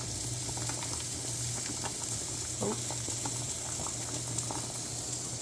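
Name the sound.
onions and potatoes frying in a pan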